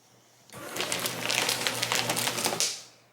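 A BONSEN paper shredder chews through a stack of 20 sheets, a rapid clattering, grinding rattle that starts abruptly, runs steadily for about two seconds and then cuts off, heard close and alone.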